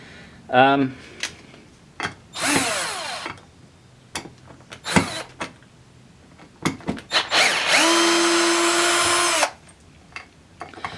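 A WORX Switchdriver cordless power drill runs in several short whirring bursts, the longest a sustained whine of a couple of seconds near the end, with clicks and handling noises between the bursts.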